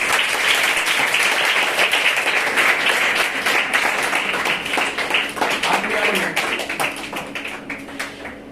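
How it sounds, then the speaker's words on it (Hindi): Audience applause at a school health and hygiene awareness program, steady loud clapping from a crowd throughout, thinning slightly toward the end. "जोरदार तालियों से स्वागत करें।"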